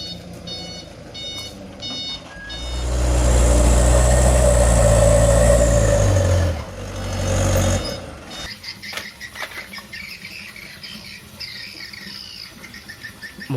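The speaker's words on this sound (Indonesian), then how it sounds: "Truk pasir." Toy sand truck with an electronic engine sound, beeping tones giving way to a loud rumbling engine roar that swells for several seconds, dips, briefly returns, then fades into faint clicks and beeps.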